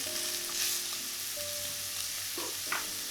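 Salted onions frying in a pan for a bottle gourd curry, a soft steady sizzle with occasional clinks and stirring scrapes near the end, close and quiet with no voices.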